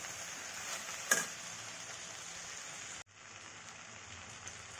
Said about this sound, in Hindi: तब हम सभी मसालों को अच्छी तरह से मिला लेंगे।